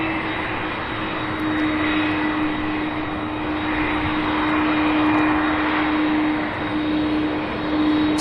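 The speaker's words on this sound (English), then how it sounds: "We have one coming from the other side, a 767, and then we have this MD-11 here as well." Jet airliner at Louisville International Airport, a loud steady engine roar with a sustained hum, rising and falling slightly as the plane passes near, with no talk.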